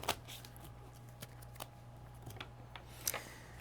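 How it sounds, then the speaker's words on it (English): A deck of Arkham Horror cards is shuffled quietly at close range, with soft riffling and small clicks scattered across a few seconds and no talk. "I was shuffling a whole pile of things that didn't need to be shuffled together."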